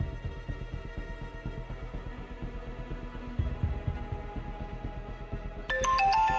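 A mobile phone starts ringing near the end of a scene in a Tamil TV serial, a bright, tonal chime breaking in over a low, steady background hum.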